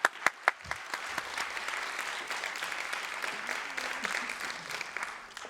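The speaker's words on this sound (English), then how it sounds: "So let's give her a round of applause." An audience at a women-in-energy careers event claps for a speaker, starting with a few sharp, separate claps before it swells into steady, moderately distant applause that holds throughout.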